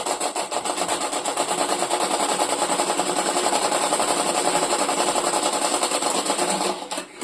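An electric sewing machine runs a fast, continuous stitch while sewing a collar strip onto a shirt, a steady mechanical whir with rapid needle ticking, close and alone until it slows and stops at the end.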